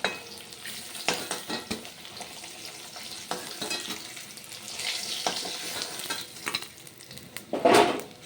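Nigella seeds temper in hot oil in a kadai after fish frying for Assamese tenga rui curry, a quiet crackling sizzle with scattered utensil scrapes and a brief louder flare near the end.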